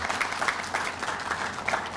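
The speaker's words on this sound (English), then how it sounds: "give yourselves a round of applause" A room of women at a FICA accounting technical workshop gives themselves a round of applause, soft, steady clapping heard from a distance.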